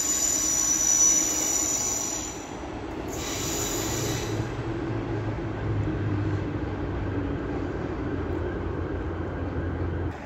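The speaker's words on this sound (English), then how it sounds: "158796 and 158910 with a northern service from Leeds to Wigan Wall Gate." A Northern passenger train formed of two coupled diesel units, 158796 and 158910, on a Leeds to Wigan Wallgate service passes through Wigan North Western station. A steady rumble of wheels and engines is heard with a faint high squeal, and no voices.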